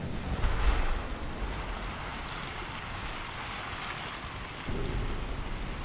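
Torpedo hits on a warship in the naval strategy game Ultimate Admiral: Dreadnoughts, heard as a dense, steady rumble of explosions and water noise with a heavier burst near the start and another near the end.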